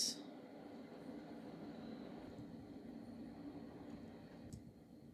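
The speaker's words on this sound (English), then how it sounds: "waiting for the train to pass." A train passing by makes a low, steady rumbling drone that holds for several seconds at a distance, faint and continuous, with no talking over it.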